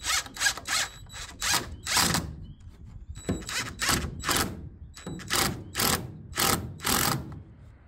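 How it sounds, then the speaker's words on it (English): Repeated bursts of a power drill whirring into a metal frame on a school bus conversion, about a dozen short runs in close succession with brief pauses between, near and fairly loud. "I'm going to start by drilling into the frame"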